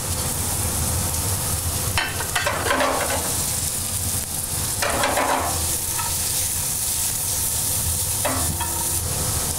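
White carrots fry in a pan with a loud, steady sizzle throughout, broken by a few brief scraping stirs, and no voices.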